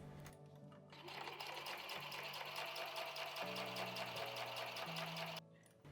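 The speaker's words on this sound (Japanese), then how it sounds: "そして最後に底縫います。" A sewing machine stitches the bottom seam of a beginner's appliqué fabric bag with a close, steady mechanical whir. It starts after a brief pause and runs for about four and a half seconds before stopping.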